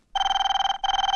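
Telephone bell ringing in a household scene, two bursts of rapid trilling separated by a brief gap, loud and close with no talk over it.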